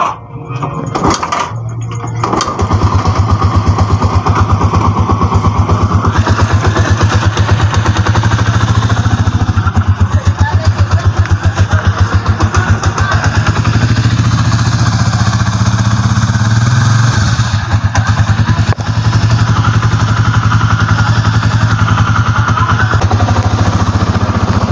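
A Rusi TC 125 motorcycle engine starts and runs steadily at a loud idle, with a deep, constant rumble and some metallic rattling throughout.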